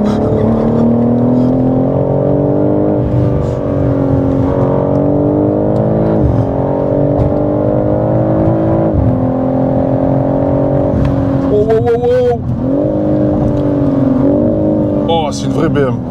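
A BMW M3 G80 straight-six pulls steadily from inside the cabin, its engine note climbing in smooth rising sweeps with a brief gear-change dip, while men chatter over it throughout.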